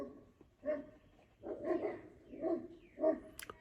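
Dogs barking in a few separate bursts of short woofs and yips, fairly quiet and somewhat distant, with no talk over them.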